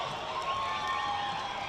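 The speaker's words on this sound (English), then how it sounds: "The crowds are ecstatic" A crowd at an Asia Rugby Sevens Trophy match in Nepal cheers after a try, a steady, moderately loud roar of voices with a faint whistle-like tone through it.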